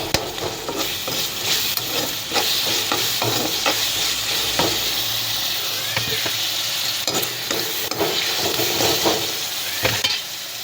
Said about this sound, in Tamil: நல்லா வதக்கி விட்டு ஃபைவ் மினிட்ஸ் விட்டுருங்க, நல்லா வதங்கும்